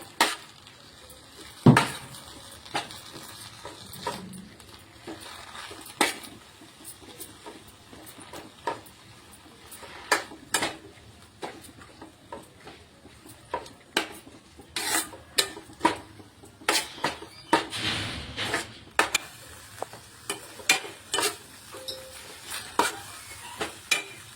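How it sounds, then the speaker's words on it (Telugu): Curry leaves, with gongura, cooking in oil in a pan: a soft sizzle runs beneath repeated sharp scrapes and knocks of a spoon stirring against the metal, close and fairly loud, with no talking. "కర్పూర ఆకులను ఆయిల్లో మంచిగా మగ్గనివ్వాలి"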